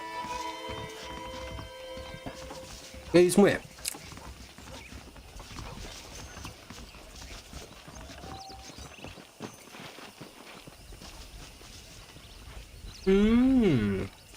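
Horse hooves clop steadily through a Red Dead Redemption game scene, with snorting bursts near the start and end, under ambient noise and a brief spoken line.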